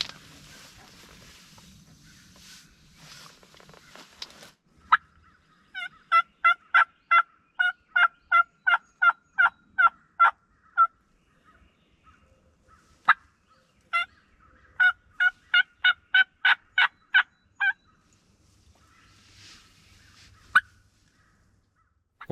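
A wild turkey gobbles back to a glass call in a field, with two long runs of sharp, evenly spaced clucking notes, fairly close and clear against a quiet background.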